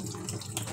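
Water runs continuously through an Epson L3210-series printer purge unit being flushed, a steady close hiss of flowing liquid.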